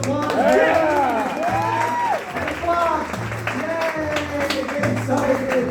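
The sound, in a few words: audience applause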